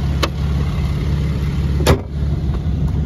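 A 2011 Chevrolet Traverse with a 3.6 liter direct-injection VVT engine idling, a steady low rumble heard up close with a couple of brief sharp clicks or knocks over the drone.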